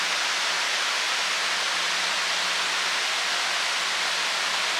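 Iruppu waterfall in Kerala sends water crashing down in a steady, dense roar that holds unchanged from start to finish, with no voices over it.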